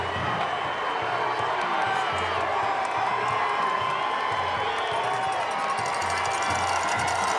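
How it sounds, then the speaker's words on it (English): Dense football crowd cheering and shouting at a high school game between the Massillon Tigers and the Barberton Magics, a steady roar with whoops filling the stands throughout, with voices mixed in. "Tigers and Barberton all both getting fired up in this crowd"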